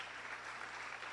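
A church congregation applauding during a worship service, a dense, steady wash of many hands clapping together at a moderate distance, without any voice over it.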